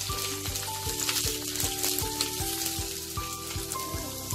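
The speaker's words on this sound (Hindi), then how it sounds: "अब मैं इसमें डालूंगी लहसुन की कलियां, मिर्च को मैंने बीच से 2 टुकड़ों में काट लिया है, अदरक के टुकड़े, तेज पत्ता, सभी को डाल के मैं हल्का सा और भून लूंगी।" Garlic cloves, halved chilies, ginger pieces and bay leaf fry in a pan, giving a steady hissing sizzle with evenly spaced stirring taps at a brisk rhythm and no talk.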